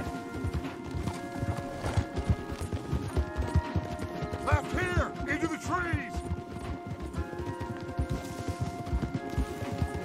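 Horses gallop in Red Dead Redemption 2, a steady run of clip-clop hoofbeats across the whole stretch with a whinny in the middle, beneath continuous game score and ambience.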